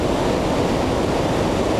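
Dagger Falls gives a dense, continuous roar of rushing water, loud and close, steady without any break.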